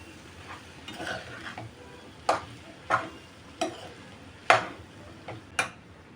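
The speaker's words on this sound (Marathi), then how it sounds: "व्यवस्थित आता मिक्स करून घेऊ" Maggi masala rice being stirred in a pan, with a spoon scraping and knocking against the metal in a series of sharp, evenly spaced clicks over a soft background hiss.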